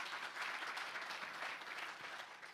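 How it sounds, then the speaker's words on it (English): A seated audience at a diaspora engagement event applauds the introduced speakers, an even, faint wash of many hands clapping heard from some distance, fading slightly at the end. "So let's give them a hand of applause"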